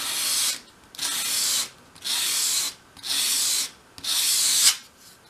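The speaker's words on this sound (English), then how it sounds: "Hold the piece at a 45 degree angle against your sandpaper and sweep it towards you" A small wooden piece for a 1/12th-scale drawer chest is swept across sandpaper at an angle, giving five even, rhythmic, close rasping strokes with brief pauses between them.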